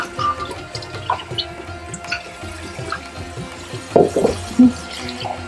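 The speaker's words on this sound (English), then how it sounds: "Is that cold water running? Yeah, of course." Cold tap water running in a kitchen while molokhia is rinsed in a strainer, a soft steady trickle with small splashes and a few louder spatters near the end.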